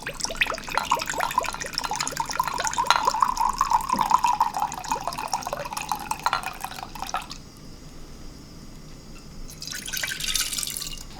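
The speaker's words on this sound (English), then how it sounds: "I'm gonna add half a cup of soy sauce." Soy sauce pours into a pot set on low heat, a close, steady liquid trickle and splash lasting several seconds before stopping, followed by a brief faint rustle.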